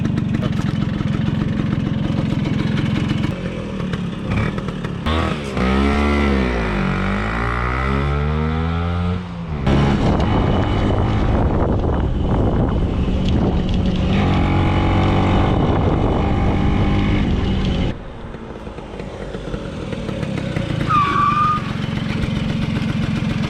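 A 1979 Vespa P125 scooter being ridden, its small two-stroke engine revving up and down through the gears with loud, close, continuous buzzing and a brief drop in pitch between shifts.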